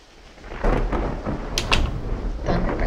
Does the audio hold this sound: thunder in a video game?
yes